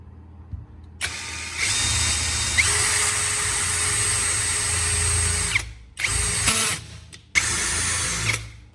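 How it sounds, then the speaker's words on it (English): A power drill whines loudly and steadily while drilling a small hole in a pipe, stops, then bursts back on twice more in short runs, close up. "keep the drill straight so the hole stays clean"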